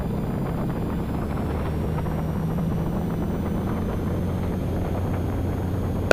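Steady engine drone of a Cirrus SR22T Gen 6 during a ground run-up at about 1000 RPM before taxi, a continuous low rumble with a faint high whine, heard from inside the cockpit at even loudness throughout.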